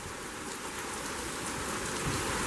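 Heavy rain pouring in sheets during a thunderstorm with gusty winds, a dense continuous hiss of downpour close by that swells slightly toward the end.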